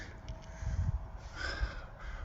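Crows cawing outdoors along a road near a lake, a couple of harsh, raspy calls at moderate distance over faint background noise.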